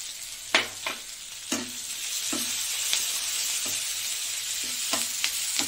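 Onion, panch phoron and green chili fry in a pan with a steady sizzle, punctuated by sharp clinks and scrapes of a utensil stirring, close and clear without talk.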